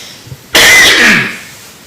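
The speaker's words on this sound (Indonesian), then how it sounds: "kalau ini batuk namanya" A single sharp, loud cough bursts out after a moment of near silence, then trails off quickly.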